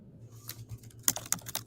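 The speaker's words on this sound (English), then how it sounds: "we won't hear the aggressive typing either" Hard, aggressive keyboard typing right beside the microphone, with irregular loud clacks and a couple of sharp peaks over a low background hum.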